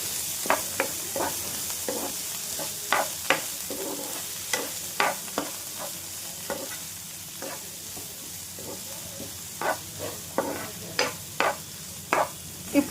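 Finely chopped onions and tomatoes frying in a spiced oil tempering for soyabean masala curry, stirred with a steady series of crisp scraping and clinking strokes over a soft continuous sizzle, close and fairly loud.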